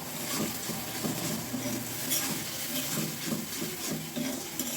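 A spice paste of onion, garlic, cumin and ginger, with turmeric, chili powder and salt, sizzling steadily in a pan as it is fried for a dried fish curry, a close, even hiss with faint stirring.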